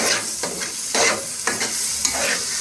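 Gajar halwa, grated carrots cooking in ghee with cardamom, stirred with a spoon: a sizzling bubble with rhythmic scraping strokes about every half second, close and fairly loud, with no voices.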